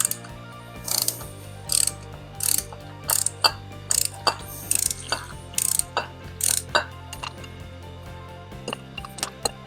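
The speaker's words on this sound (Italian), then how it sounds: "Siamo adesso pronti per andare a togliere il filtro dell'olio." Ratchet wrench clicking in short repeated bursts while removing the oil filter from the dry-sump engine of a 1972 Honda Four 750, loud and close with brief pauses between strokes.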